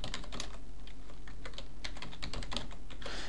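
Rapid, close keystrokes as a password is typed on a computer keyboard, an irregular clatter of clicks over a constant hissing background hum.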